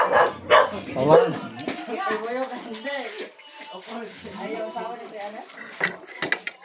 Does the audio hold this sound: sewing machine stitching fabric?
no